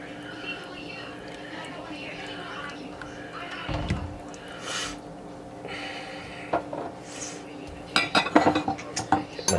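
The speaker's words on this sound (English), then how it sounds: "Get my dishes, dirty dishes out of the way here." Dirty dishes, pots and pans being moved aside in a home kitchen after making cheesy broccoli soup, with soft clinks and a scrape midway, then a denser burst of clattering clinks near the end over a low background hum.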